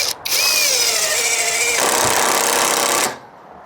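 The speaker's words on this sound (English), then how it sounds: "we're gonna run in a few screws, see how it goes" A cheap Temu impact driver drives screws into wood, a loud whirring motor whine rising in pitch and then dropping into a rougher run before cutting off abruptly.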